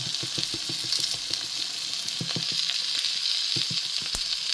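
Okra (ladyfinger) frying in oil with a little rice flour, a continuous sizzle with repeated scraping stirs, rhythmic at first and then scattered, no voices.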